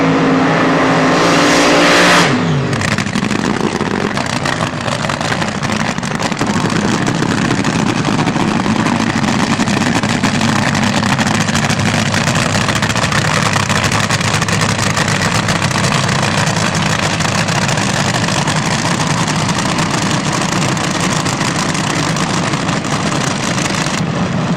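A 1966 Chevy Nova drag racing at Norwalk Raceway during a Super Stock reunion, engines screaming loud and close from the launch, then a sustained roaring drone as the cars run down the strip, with no talk.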